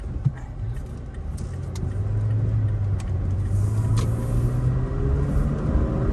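Toyota Tacoma pickup with new gears and an OTT 5.29 tune climbing a steep hill, a steady, loud engine drone and road rumble building slightly as it pulls, heard from inside the cab.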